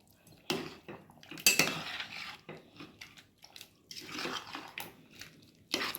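A spoon scrapes and clanks in a pot of mutton masala curry with small diced potatoes, then a metal lid closes on it. The sharp clatters come in a few bursts, with quieter scraping between them and no talk.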